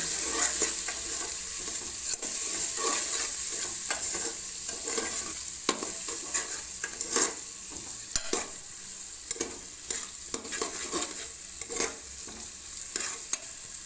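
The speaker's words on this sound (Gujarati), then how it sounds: "હવે આપણે એને બરોબર મિક્સ કરી લઈએ." Spice masala of coriander-cumin, turmeric and red chilli powder sizzles steadily in a pan for a village-style vegetable biryani, with repeated scraping stir strokes and spoon taps over the constant frying hiss. No one speaks.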